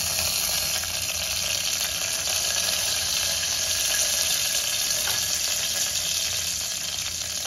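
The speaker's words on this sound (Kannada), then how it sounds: "ಸೊ 1 ನಿಮಿಷ ಅಷ್ಟು ಇದು ಸ್ವಲ್ಪ ಫ್ರೈ ಆಗಲಿ." Mustard seeds and curry leaves fry in hot oil in a pan, a dense continuous hiss and crackle, close and steady throughout with no voices.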